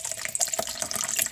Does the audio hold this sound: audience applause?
no